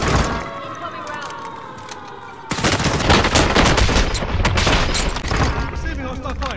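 Hostile gunfire in Call of Duty Warzone: after a quieter stretch with a voice speaking, a dense burst of rapid automatic shots erupts, loud and close, continuing for several seconds with a voice still heard under it.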